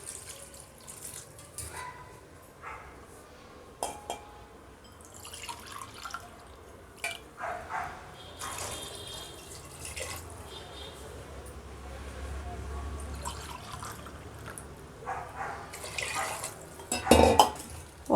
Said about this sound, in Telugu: వాటర్ యాడ్ చేయాలి.